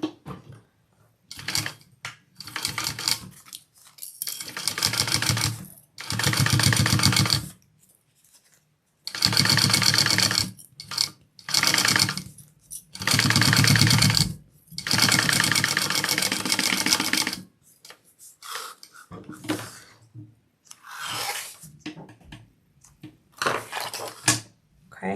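A sewing machine stitches down the raw edge of a fabric wallet in repeated loud bursts of rapid mechanical whirring, separated by short pauses, close to the microphone with no talking.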